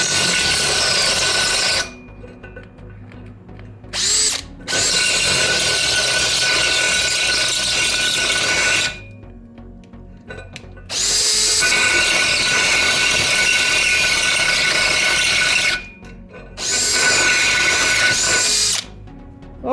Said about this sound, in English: let's enlarge this hole in this piece of angle iron